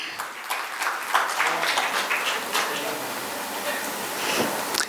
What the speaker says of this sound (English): Can we have a big round of applause for ma'am?